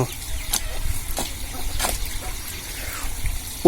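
Water splashes and trickles steadily onto eggplant plants, a soft continuous pour with small spattering bursts, no voices.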